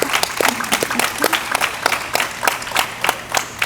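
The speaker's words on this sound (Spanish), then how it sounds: "Me voy a salir un ratito del protocolo para pedir un aplauso al maestro," An audience at a theatre spectator-school talk applauds a teacher, a steady patter of many hands with sharp individual claps standing out, moderately loud and continuous with no talking.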